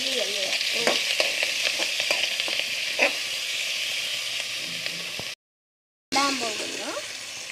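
Mustard seeds sputter in hot oil for a rasam, making a dense, continuous sizzle with sharp crackling pops close by; a voice is briefly heard, and the sound cuts out for a moment before resuming.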